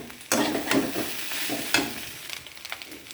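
Egg chow mein being tossed and stirred in a pan with a little oil, with several close scraping and clattering strokes over a sizzle, loud bursts falling in an uneven rhythm.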